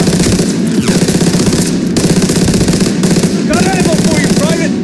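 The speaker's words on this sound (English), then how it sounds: "Open fire! Someone get on the MG!" Machine-gun fire on a D-Day battlefield in Call of Duty WWII rattles loudly and continuously throughout, mixed with battle noise and shouted voices.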